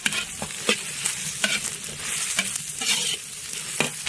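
Dried chilies and Sichuan peppercorns stir-fried in hot oil with scallion, ginger and garlic, with a steady crackling sizzle broken by repeated sharp scrapes of a spatula against the wok, close and fairly loud.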